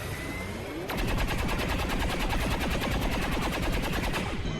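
Overwatch reaction fire in XCOM 2 breaks out after a quiet moment as a loud, rapid machine-gun burst that runs steadily for several seconds before cutting off.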